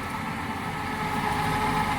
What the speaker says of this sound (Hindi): हमारे पिताजी ट्रैक्टर चला रहे हैं